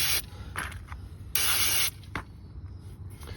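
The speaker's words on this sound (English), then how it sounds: "I'm gonna hit it with some brake clean as well." Brake cleaner sprayed onto the rear brakes of a 2017 Nissan Murano comes as several sharp aerosol hisses, short bursts followed by one longer half-second blast, close and loud over a quiet garage background.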